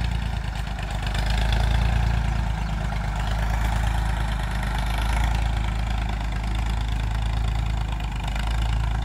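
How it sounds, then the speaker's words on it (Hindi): A 40-year-old Ford 3600 tractor running its diesel engine, a loud, steady, close chugging with a low knocking throb that stays even throughout, with no voices. "तो दोस्तों आपको फोर्ड की चाल जरूर अच्छी लगी होगी।"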